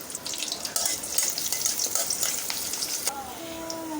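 Sliced onion dropped into hot oil in a wok for a fish-head lentil dal hisses and crackles steadily up close, with light stirring noises and a faint tonal whine toward the end.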